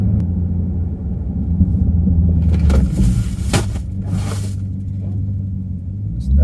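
A car brakes hard during a tire test: low engine rumble and road roar, broken by short bursts of tire scrub and scraping noise midway, then a steady low drone as the car slows, close and loud with no talk.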